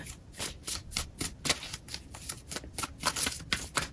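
Oracle cards from the Enchanted Map deck being shuffled by hand, a close run of quick, crisp riffles and slaps in an uneven rhythm, with no voices.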